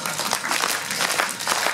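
An audience at a 2014 Christmas show claps together in a steady, dense wash of applause that holds at an even level from start to finish, with no voices standing out.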